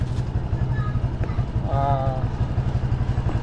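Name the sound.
motorcycle engine of a tricycle running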